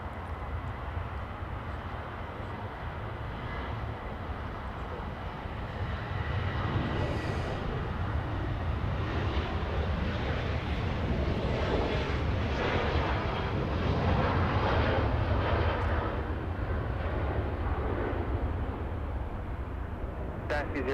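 A China Airlines jet at Los Angeles International Airport roars in a broad, building rumble that swells to a loud peak around the middle and then eases, heard from a distance with people talking over it.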